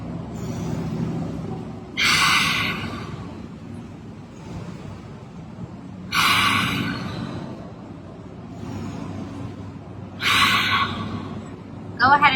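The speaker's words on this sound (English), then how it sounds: "3 Ujjayi breaths linked together." Three slow Ujjayi yoga breaths follow one another, each a long, throaty, ocean-like hiss lasting a couple of seconds, with soft low background noise in between.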